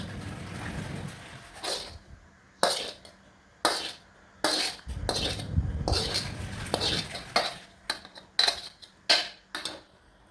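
Cooked, dried pastry filling being scooped from a pan into a bowl, a run of close metallic scrapes and clinks of a utensil against cookware, irregular and sharp, with quieter stirring between.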